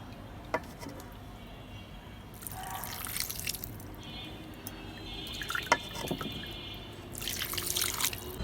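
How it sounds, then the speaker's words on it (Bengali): Water is poured into a hand-mixed cooking mixture, heard as faint drips and a few soft, splashy pours in short bursts against a quiet room. "এখন এটা আমি পানি দিব এখানে।"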